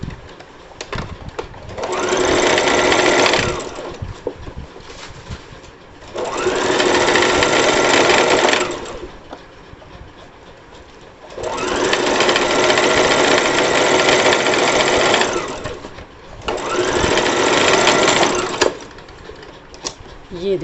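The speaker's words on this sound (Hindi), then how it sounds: "और यहीं से फिर से हमें इस तरफ सिलाई लगानी है" Sewing machine stitching a salwar in four separate bursts of steady, fast whirring, each lasting a few seconds, with quieter handling noise and pauses in between.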